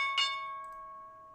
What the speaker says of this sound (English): So you'll hear that bell go off any time now.